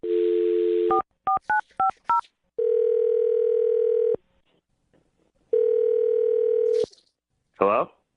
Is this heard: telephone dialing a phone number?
yes